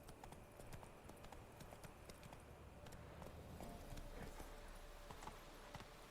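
Roach, a horse in The Witcher 3, gallops with a rapid, steady clip-clop of hooves, quiet and continuous against a faint game background.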